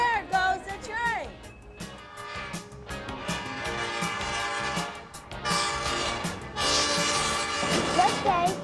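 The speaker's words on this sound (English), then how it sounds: "There goes a train." A train passing and sounding its horn, with loud sustained horn tones over rumbling, clattering wheels and a voice speaking over it.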